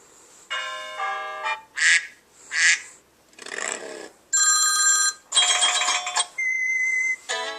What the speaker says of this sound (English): I'm assuming this leads to all the classic ringtones, which they do